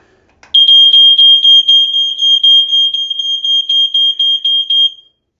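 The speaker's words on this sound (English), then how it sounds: "Sound recognition recognizes it as a smoke alarm." A Code One CD23 smoke alarm shrieks loud and close in a steady high piercing tone, pulsing in rapid repeated bursts for about five seconds before cutting off, with no one speaking.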